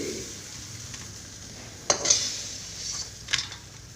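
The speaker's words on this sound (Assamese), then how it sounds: "জালুক দিয়া লিভাৰ ফ্ৰাই হৈ গ'ল" Chicken liver frying in a pan, a faint low sizzle under a few sharp metal clinks and scrapes as it is stirred with a utensil.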